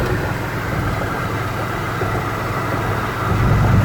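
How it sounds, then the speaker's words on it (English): A black 1967 Pontiac GTO with a 4-speed automatic cruising at about 55 mph, giving a steady, fairly loud engine and road rumble that swells slightly toward the end. "The car drives down the road really well"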